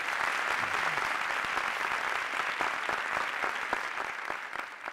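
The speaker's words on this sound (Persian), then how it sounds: "ممنونم که اینجوری تشویق کردین" Sustained applause from a live studio audience at a Persian comedy talk show, dense steady clapping filling the room at close range with no talk over it.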